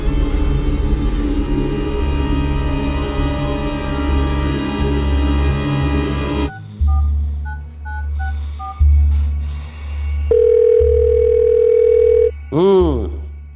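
An unanswered telephone call: electronic tones and repeated beeps of a phone line sounding over a dense, noisy scene, then a few clean sustained tones with pauses between.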